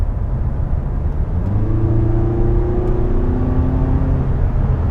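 2016 Mazda 6 engine in sport mode holding high revs off the throttle, a loud steady whirring drone with rising harmonic tones over road rumble, heard from inside the car.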